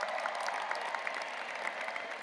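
Commencement audience at Berkeley's Spring 2024 ceremony applauding and cheering the keynote speaker, a steady dense wash of clapping from a large crowd with no pauses.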